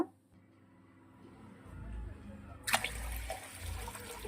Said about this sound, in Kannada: ನಾನು ನೀರು ಹಾಗೆ ಒಂದು ಅಳತೆ ಮೇಲೆ ಹಾಕ್ತಾ ಇದ್ದೀನಿ.